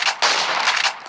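A SPAS-12 shotgun fires in a Minecraft PE guns mod, giving loud, broadband blasts in quick succession over about a second with no pauses.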